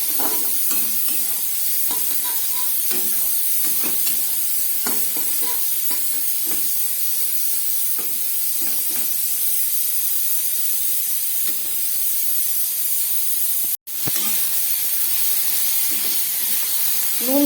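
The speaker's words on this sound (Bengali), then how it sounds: "নুন হলুদ দিয়ে খুব ভালো করে আমি কচুরলতিগুলোকে ভেজে নিচ্ছি।" Taro stolons frying in a pan with salt and turmeric, a steady close sizzle and hiss throughout with faint stirring scrapes, no speech.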